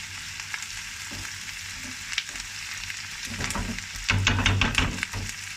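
Caponata vegetables frying in a pan and stirred with a steady sizzle, plus scraping and stirring knocks that grow louder and busier toward the end, close up.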